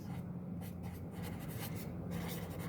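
Maths equations written out by hand produce a steady, continuous scratching of the writing tool across the surface, close and quiet, with no voices.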